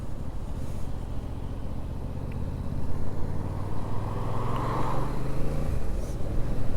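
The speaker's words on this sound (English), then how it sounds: "Traffic like this in the morning reminds me why I don't work days." Steady morning road traffic heard from a Yamaha MT-07 motorcycle, with a constant engine drone and wind rumble and passing vehicles swelling and fading in the background.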